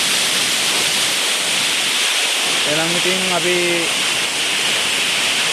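Beerigan waterfall pours down from above in a steady, loud, broadband roar that fills the whole clip, with a person briefly speaking over it partway through.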